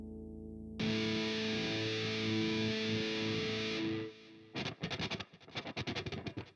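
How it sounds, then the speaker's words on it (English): An electric guitar plays through a Duncan Blackout preamp with distortion on, sustaining one thick held chord for about three seconds, then switching to a run of choppy, rhythmic palm-muted strums, close and loud. "So let's turn the distortion back on"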